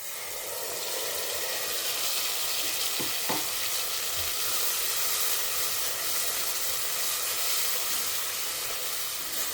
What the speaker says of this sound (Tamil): நான் இப்போ அரைச்சி வச்ச இந்த விழுதை இதோடு ஆட் பண்ணி விடுறேன்.